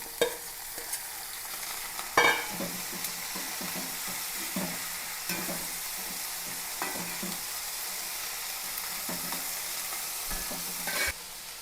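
Bitter gourd goes into a hot pan and fries, giving a steady, soft sizzle broken by scattered knocks and scrapes of stirring, with one sharper clatter early on and no voices.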